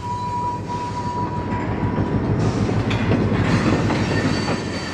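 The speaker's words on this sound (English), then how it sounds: "we'll actually see the train being turned on the Y" Great Northern 325, an SDP40 diesel locomotive, turning its train on a wye near Dresser: a loud, continuous rumble of engine and rolling cars with wheel squeal and a faint high whine, heard alone.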